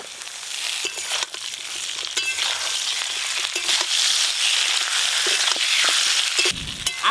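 Potatoes and eggplant fry in a pan, giving a loud, continuous sizzling crackle. Scattered sharper pops and clatters run through it, and near the end there is a brief scrape.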